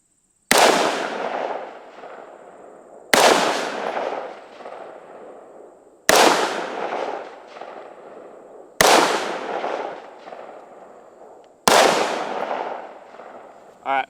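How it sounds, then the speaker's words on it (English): Five loud, sharp rifle shots ring out one at a time, spaced a few seconds apart, each followed by a long echoing decay, as a five-shot group is fired at 50 yards. "So now we are going to shoot at 50 yards, shoot another group of 5"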